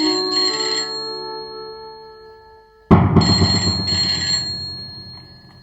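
A phone ringtone plays a bright electronic melody, fading, then starting again abruptly and loudly.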